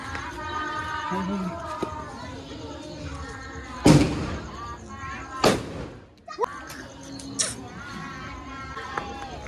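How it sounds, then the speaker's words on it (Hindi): Firecrackers go off during a Chhath Puja celebration outdoors, two sharp loud bangs a couple of seconds apart, with people chattering in the background and festive music. "चलो अब बारी है चॉकलेट वाले बम का।"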